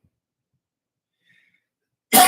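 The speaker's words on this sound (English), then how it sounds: "I'm sorry, I keep coughing." A single abrupt cough from a man at the very end, close and loud after near silence.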